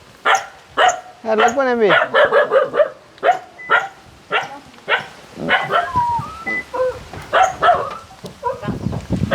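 A dog barks and whimpers near a person, giving a run of sharp yips and barks with a rising whine, mixed with close talking.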